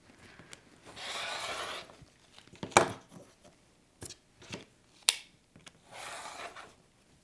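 A dull rotary cutter blade slices through quilt fabric scraps with a few soft, raspy strokes and scattered small clicks and taps, close up and quiet.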